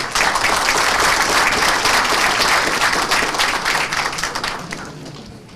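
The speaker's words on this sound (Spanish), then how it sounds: "Fuertes palmas, por favor." An audience at a legal conference applauds after a lecture, a loud dense burst of many hands clapping that holds steady, then thins and tapers off toward the end.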